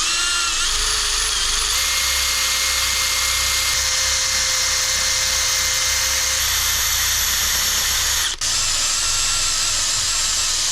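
A power drill spins a 100-grit surface prep wheel, lightly smoothing a gouge where the crankshaft ate into a dirt bike engine case. The high, steady whine holds near and loud for about eight seconds, then briefly cuts out.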